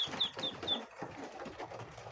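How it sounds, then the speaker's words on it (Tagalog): Ducks and other poultry call nearby, with soft low clucks and a few high chirps over a steady farmyard background. "Ayan po yung aking mga pato."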